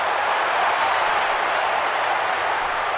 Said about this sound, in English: I can't hear you. Crowd's too loud.